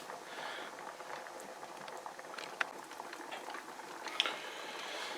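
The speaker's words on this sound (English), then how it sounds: "you can see the water churning quite fast there" Water boiling hard in a canner on a burner: a steady, dense bubbling and churning with scattered pops, fairly quiet and close, without any talking.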